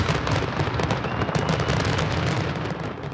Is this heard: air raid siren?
no